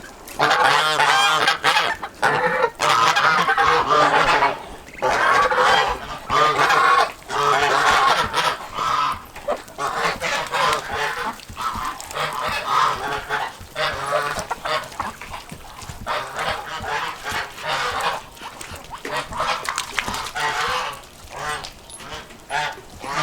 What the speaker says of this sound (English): Let's go over here where the geese aren't going to be as loud.